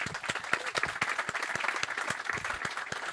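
An audience applauds a guest at a conference, a dense, steady round of clapping with distinct individual claps near the front, with no voices over it.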